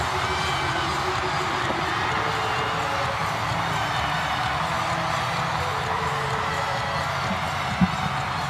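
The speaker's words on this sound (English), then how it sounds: "What a crowd, what a noise." A packed indoor volleyball arena roars after a men's international match win, a dense, steady wall of crowd noise with cheering that holds at a constant loud level throughout.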